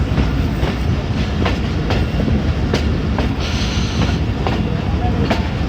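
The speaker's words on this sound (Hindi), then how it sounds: "सामने खड़ी है 130 डाउन थल एक्सप्रेस, जो उसका स्टॉप है बाकायदा यहाँ पे फ़कीराबाद में" Pakistani passenger train Thal Express, 130 Down, standing at Fakirabad station, giving a steady loud rumble with faint periodic clicks throughout.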